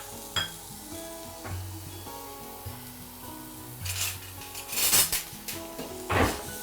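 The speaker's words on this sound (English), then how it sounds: "I've added the finely chopped onions, and you can do this either on high flame or just lower the flame." Finely chopped onion, about one onion, sautés in melted butter in a pan over raised flame, with a soft sizzle, scraping stirs and occasional clinks of utensil on pan, louder bursts of sizzle near the end.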